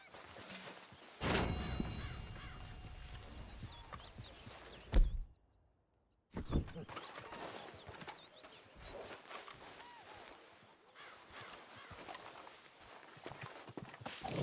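Horse hooves clopping in the video game Red Dead Redemption, a steady walking rhythm that runs through most of the stretch, broken by a brief silent gap, with birds and other game ambience mixed in.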